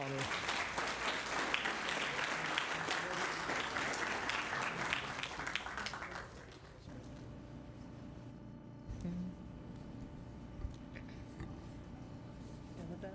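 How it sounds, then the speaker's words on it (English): A crowd at a school board meeting applauds steadily for several seconds, dense clapping that fades out, followed by quieter room noise and faint talk. "So please join me in giving a big round of applause to Olivia Johnson"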